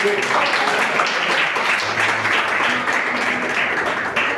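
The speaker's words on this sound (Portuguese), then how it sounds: "as palmas continuam louvando ao Senhor." A church congregation clapping steadily in praise, a dense continuous wash of many hands with voices singing or calling underneath throughout.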